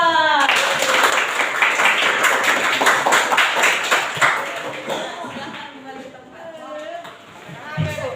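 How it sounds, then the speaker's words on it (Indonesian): A classroom gives a student group a round of applause, a burst of dense clapping that tapers off after a few seconds while voices and murmuring carry on behind it. "kasih tepuk tangan untuk kelompok 2"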